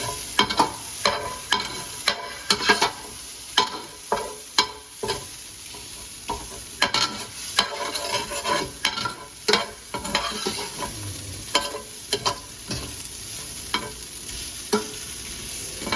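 Kozhukattai frying in hot oil, a constant crackling sizzle broken by frequent clinks and scrapes of a ladle stirring the pan, close and fairly loud, with no voices.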